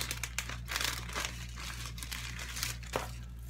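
A beer mail package is unwrapped, with continuous close crinkling and crumpling of paper or plastic wrap plus occasional sharp tearing rustles over a steady low background hum.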